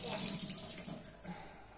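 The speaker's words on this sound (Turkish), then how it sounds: "Şimdi bezimi bir yıkayayım." Tap water runs steadily into a sink while a cloth is washed during oven cleaning, a close, even hiss with a few soft sloshes.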